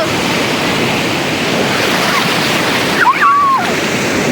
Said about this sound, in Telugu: వామ్మో అలలు చాలా వస్తున్నాయి